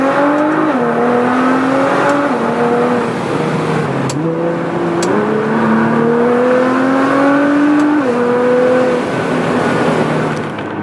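Nissan GT-R with an active exhaust revving hard, a loud close engine note climbing and dropping in repeated sweeps for about eleven seconds, with no talk over it.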